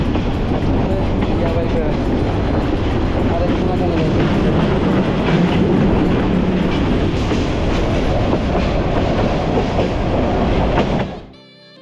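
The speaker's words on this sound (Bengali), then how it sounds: "শ্রীমঙ্গল স্টেশন থেকে ট্রেন যখন চা বাগানের কোল ঘেঁষে অতিক্রম করবে" A train rolling past tea gardens near Sreemangal station, a loud, steady rumble and clatter of wheels on track lasting several seconds before cutting off abruptly.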